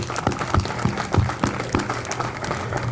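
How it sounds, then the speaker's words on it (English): Applause from the crowd at a memorial service for a former Atlanta police detective, a steady round of clapping with a few louder bursts, fairly close and continuous for its whole length. "So I think we should give them all another round of applause real quick"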